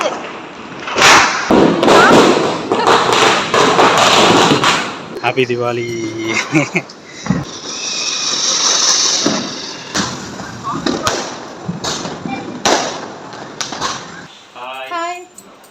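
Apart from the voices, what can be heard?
firecrackers exploding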